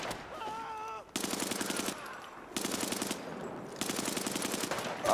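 An old-school machine gun in the Brothers In Arms 3 war game fires three sustained rapid bursts, each about a second long, with short pauses between and a faint tonal game sound before the first burst.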